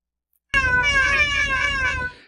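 A single drawn-out cat meow, loud and close, lasting about a second and a half on its own, played as a sample in Logic's Sample Alchemy.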